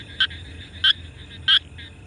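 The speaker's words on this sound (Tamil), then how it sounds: "வயல்வெளிகளை சுற்றி உள்ள பகுதிகளில் இந்த தவளைகளை நிறைய பார்க்க முடியும் இதுங்க பாட்டு பாடுறது நல்லா சத்தமா கேட்கும்" Frogs croaking at night in the areas around farm fields, three loud, evenly spaced calls about two-thirds of a second apart over a low steady background hum of other night creatures.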